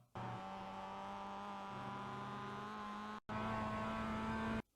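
A Mazda MX-5 race car in the iRacing game laps Oran Park, its engine droning loud and steady, then cutting off briefly for a gear change before resuming at a different pitch, with no voice over it.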